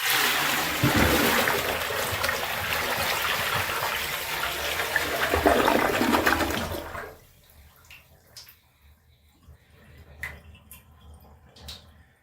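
A Kohler Trent toilet is flushed by dumping a bucket of water into the bowl, giving a loud, sustained rushing gush for about seven seconds that stops abruptly, followed by faint drips and small trickling sounds.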